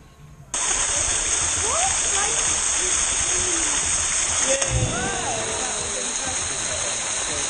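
Swimmers jumping and backflipping into a hidden, remote river spot, loud rushing water and splashing continuous after a quiet start, with a sharper splash near the middle and faint voices beneath.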